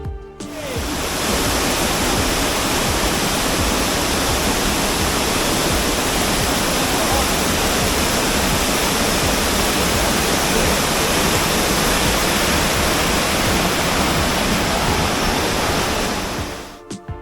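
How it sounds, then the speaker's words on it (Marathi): A loud, continuous roar of rainwater rushing down the Pawankhind mountain gorge nearby, steady and unbroken from start to finish. "पाऊस पडत असल्यामुळे खिंडीत हे पाणी जोरात खाली पडत आहे"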